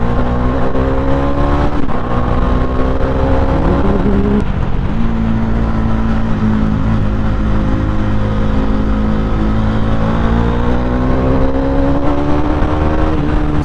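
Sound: Bajaj Dominar 400 motorcycle riding

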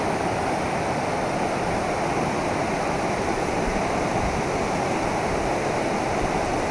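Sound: river rapids rushing in Yellowstone

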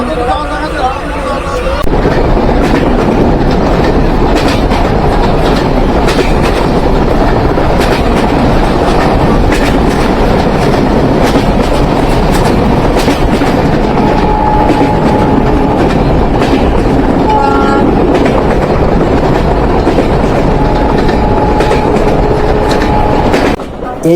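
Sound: Kapotakkho Express train running at speed

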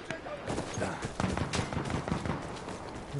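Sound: gunfire in a video game

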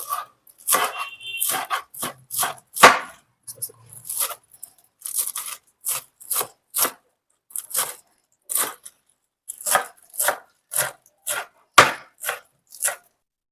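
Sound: chopping spinach on wooden board

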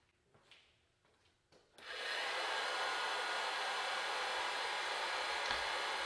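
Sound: modified popcorn popper coffee roaster preheating

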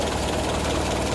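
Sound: Toyota 4K engine idling at about 750 RPM

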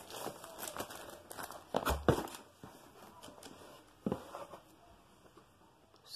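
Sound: opening the packaging of a HyperX Alloy Core RGB keyboard

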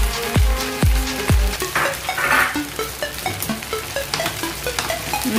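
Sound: egg added to hot pan, sizzling while making egg semiya

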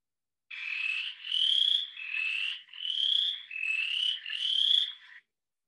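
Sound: western chorus frog calling

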